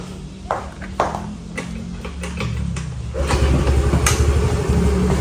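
A Honda Navi scooter's signal light flasher relay ticks in sharp, evenly spaced clicks about twice a second, heard up close over the steady hum and rumble of the idling engine.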